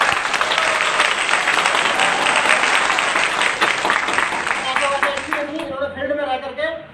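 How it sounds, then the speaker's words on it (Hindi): Loud applause sweeps through a seminar audience, dense and sustained for about five seconds before tapering off as a voice begins speaking over the fading claps. "जोरदार तालियां।"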